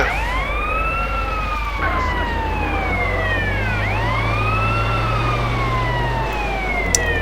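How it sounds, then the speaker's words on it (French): A fire truck siren in GTA San Andreas wails, sweeping up and down continuously, loud and close, over a steady low engine rumble. "Personne ne peut rattraper Smiley Player à bord de son super camion de pompiers"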